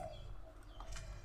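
Soft cooing of a spotted dove, faint and a little distant, with a steady low background hum.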